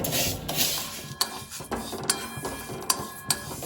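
Mung dal with a bay leaf fries in hot oil in a wok while a metal spatula scrapes and knocks against the pan in irregular strokes over a continuous sizzling hiss.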